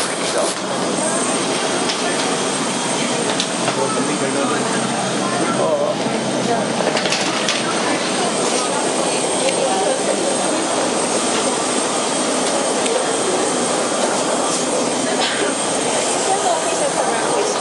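Boeing 777-300ER cabin during boarding, filled with a steady, loud jet engine roar and hiss that holds without a break throughout.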